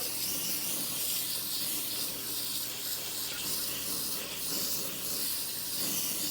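Pressurised water spray rinsing sediment buildup off indoor evaporator coils, a steady broad hiss that continues close and unbroken throughout, with no talk.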